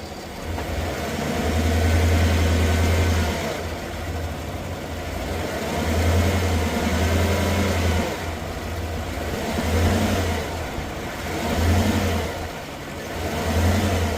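A car engine with a bad motor mount idles and revs in repeated cycles, loud and close, the deep rumble swelling with each blip of the throttle and settling back to a rough idle between them.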